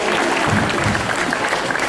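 Spectators at a Dreamworld tiger show clap for a performing tiger, a brief burst of dense, loud applause from a crowd that holds steady to the end.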